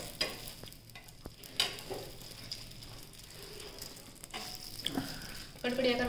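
Vada pav roasts on a pan over a medium flame, a soft continuous sizzle with light stirring and scraping knocks, faint and close, with brief talk in the background.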